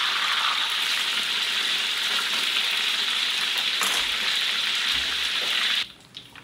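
Food frying and bubbling in a pan over low heat, a steady, dense sizzle that holds evenly for about six seconds and then cuts off abruptly near the end.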